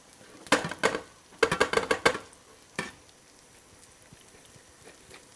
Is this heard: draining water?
yes